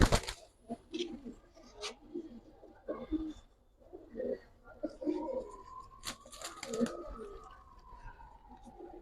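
Silver Giribaz pigeons coo in repeated low, throaty phrases close by, broken by soft shuffling and clicks, with a few quiet human sounds in the background.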